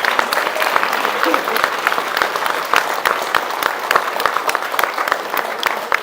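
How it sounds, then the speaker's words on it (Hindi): An audience claps steadily through a dense burst of applause, with some crowd voices mixed faintly underneath the continuous clapping. "जरा तालियां बजाएं अपने लिए सब मिलके"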